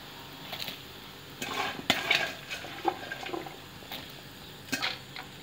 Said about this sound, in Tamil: போட்டுட்டு கொஞ்சமாக அப்படி கிளறி விட்டுக்கோங்க